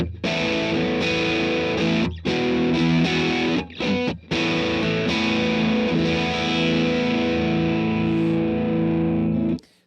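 An electric guitar through a VOX AC10 amp with crunchy overdrive plays loud sustained distorted chords with a few short breaks between strums, alone without talk.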